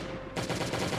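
Gunfire in the zombie survival game Last Day on Earth, a dense burst of rapid shots starting about a third of a second in and continuing steadily to the end, loud and close with no talk.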